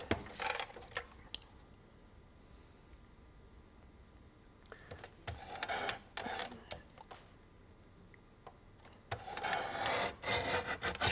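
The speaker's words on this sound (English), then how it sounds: "So we'll trim that in the guillotine." A large guillotine cutter trims a sheet of paper in a craft room, giving several loud bursts of rasping, sliding blade noise separated by quieter pauses.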